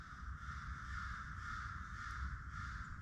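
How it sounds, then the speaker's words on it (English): Crows cawing around a snowy winter truck camp in the morning, their calls steady and fairly distant over a low background rumble, with no talking. "Been sitting here listening to the crows this morning."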